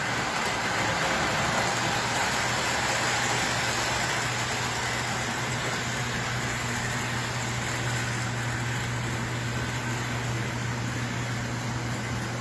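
An American Flyer E8 model locomotive in Illinois Central Green Diamond chocolate and orange livery runs on a test layout, giving a continuous, even motor hum and rolling drone with no talk over it.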